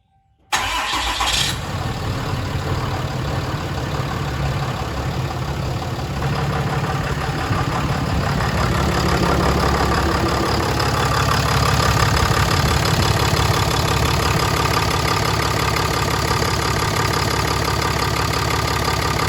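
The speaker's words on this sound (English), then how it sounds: "We got it primed 6 times here, so we're gonna start it up." A Ram pickup's diesel engine cranks and catches after a fuel filter change, then settles into a loud, steady idle that rumbles on continuously with a faint knocking rhythm.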